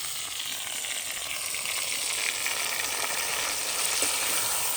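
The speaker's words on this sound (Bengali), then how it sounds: "এবারে বাটা মশলাটা দিয়ে দেব।" Ground spice paste sizzles as it goes into a pan of meat already frying, giving a bright, steady crackle and hiss that stays close and continuous.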